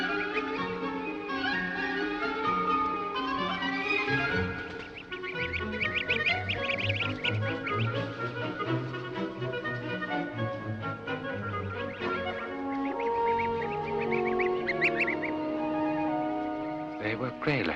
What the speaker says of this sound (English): They were grey-lag geese, the wild variety of the Scottish seashore.